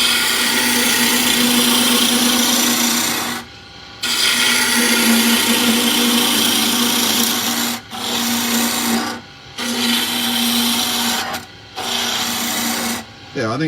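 Wood lathe spinning a small table leg while a bowl gouge takes a roughing cut, a loud rasping, humming scrape that stops and restarts several times in short bursts, with a voice speaking in the gaps.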